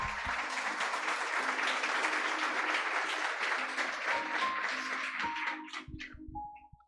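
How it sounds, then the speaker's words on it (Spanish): Sustained applause fills a church service, loud and dense, with a tone sounding faintly underneath before the clapping thins out and stops near the end. "Dale un aplauso al Señor."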